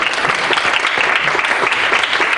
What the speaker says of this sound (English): can we have a round of applause for our outstanding panel?